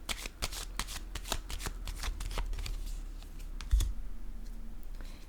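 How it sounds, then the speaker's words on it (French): Tarot cards handled and shuffled on a table, a rapid run of close crisp flicks and riffles that thins out, followed by a soft thump as a card is laid down. "Je vais déposer une carte sur le travail."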